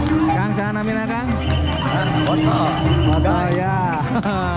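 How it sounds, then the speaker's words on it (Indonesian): Horses neigh loudly and repeatedly with clip-clop hooves at a kuda renggong horse parade, while people talk nearby over the continuous noise. "Nah, kuda selanjutnya Sancaka Semista."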